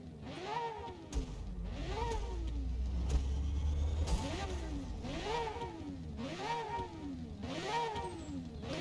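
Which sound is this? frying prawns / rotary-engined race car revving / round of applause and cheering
rotary-engined race car revving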